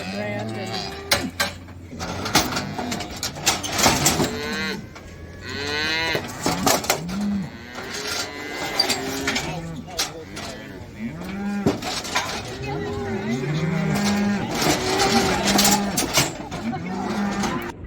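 Cattle at a branding on the Hashknife Ranch in 2023 moo loudly and repeatedly, with long, overlapping calls from several animals close by and bumps and clatter from the pen between them.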